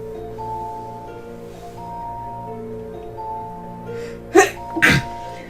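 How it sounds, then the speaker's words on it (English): Two sharp sneezes in quick succession near the end, close and loud, after a few seconds of soft tonal background music. "Ooh, I gotta sneeze."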